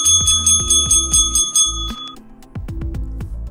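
A hand bell rings repeatedly in quick, loud, bright jingling bursts, pausing briefly before a second run of rings.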